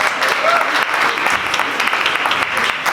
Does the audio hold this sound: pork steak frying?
no